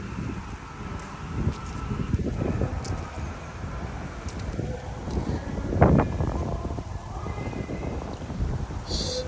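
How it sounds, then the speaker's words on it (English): Wind buffeting an outdoor microphone, a steady low rumbling roar with gusts that swell, peaking near the middle, under faint background sounds. "Sorry, it's a bit windy."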